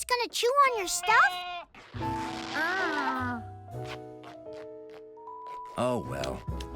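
Baby goats bleat in a cartoon, several short wavering cries at the start and again near the end, mixed with children's voices, music and sound effects.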